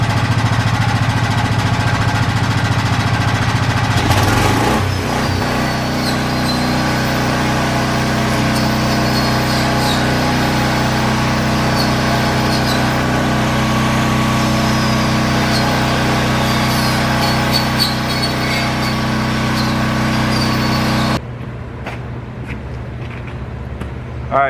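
A Vulcan Outlaw 195 welder/generator engine runs steadily at close range with a constant droning hum, then cuts to a quieter background for the last few seconds.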